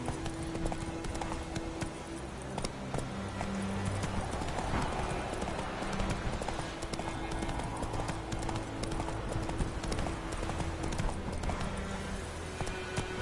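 Horse galloping in a PlayStation 4 video game, steady clip-clop hoofbeats running throughout under a busy game soundtrack, with a brief whinny.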